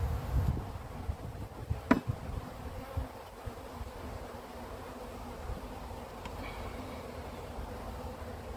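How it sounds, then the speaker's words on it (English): Honey bees buzz around an open beehive frame, a dense continuous hum close by with a few clunks and knocks of hive equipment early on, no speech. "A lot of bees on this center frame."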